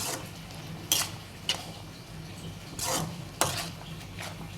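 A spoon stirs millet vermicelli and crumbled scrambled egg in a pan, with several close scraping and clinking strokes over a quiet, faintly sizzling background.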